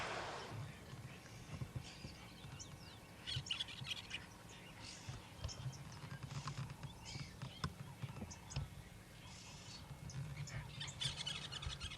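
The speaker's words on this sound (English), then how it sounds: "hearing the sounds of the birds" Birds chirp and tweet in scattered bursts in the African bush at Ngala Private Game Reserve during a morning safari, over a faint, steady outdoor background. The calls are fairly distant and quiet, with no talking.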